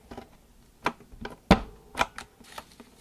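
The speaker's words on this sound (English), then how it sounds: "Now I want to round my corners." Sharp clacks from a corner rounder punch on a WRMK envelope punch board cutting paper corners: several separate snaps over three seconds, one loudest in the middle, close and dry with no talking.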